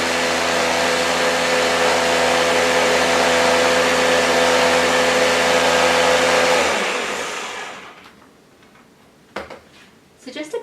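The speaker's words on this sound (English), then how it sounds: "And I'm going to blend this." A blender's loud, steady whirring motor runs for several seconds blending roast chicken gravy, then winds down and stops, leaving a few soft knocks.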